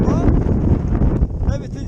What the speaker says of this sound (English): still raining, still windy